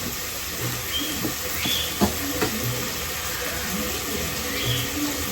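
Mutton with masala and chili powder sizzling as it is sautéed at a roadside-style stall, a steady hissing fry with small crackles and scattered clinks, continuous and fairly close.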